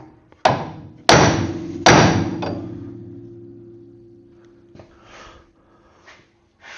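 Hammer taps seating a front disc brake part on a 1959 Edsel during a disc brake swap: three sharp metallic strikes close together, each ringing out and slowly decaying, followed by faint breathing and small handling noises.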